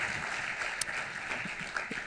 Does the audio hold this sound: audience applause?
yes